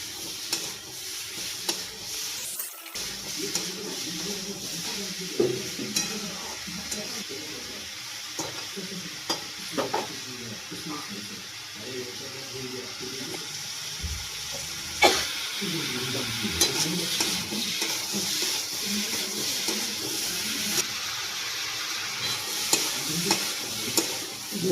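Close, hissing sizzle of onion-tomato masala with salt and turmeric being stirred in a pan for hotel-style paneer tikka masala, with repeated spatula scrapes and knocks against the metal while a person talks over it.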